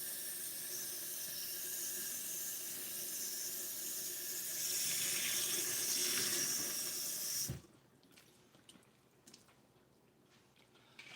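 A faucet runs steadily with a loud hiss of water while a doll's head is rinsed under it with hand soap, then the flow cuts off abruptly, leaving quiet room tone with a few faint clicks.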